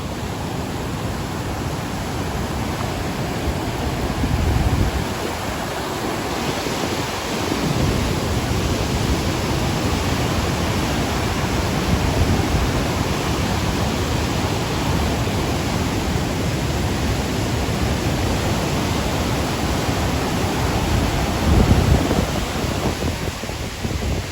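Flowing water rushes steadily, a broad, continuous hiss without pause, loud and close, with slight swells along the way and no voices.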